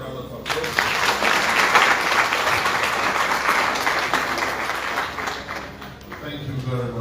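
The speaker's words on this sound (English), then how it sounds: "Let's give them a round of applause." Audience round of applause at a university inauguration ceremony, dense sustained clapping that swells quickly and fades near the end, with a voice speaking over it as it dies down.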